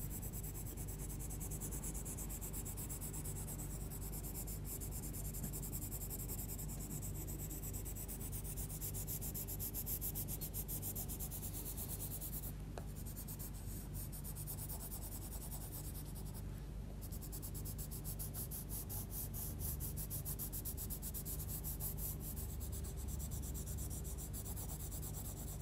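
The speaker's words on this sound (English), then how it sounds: "I'm always using the pencils on their sides here, really just the edge part of the tip" Derwent coloured pencils shading on paper with the side of the tip, a continuous close scratchy rubbing of steady back-and-forth strokes, with no talking.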